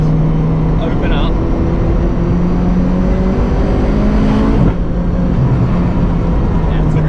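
A Zenvo supercar accelerates hard in third gear, its engine a loud, continuous rising roar heard from inside the cabin, with a brief shift around the middle.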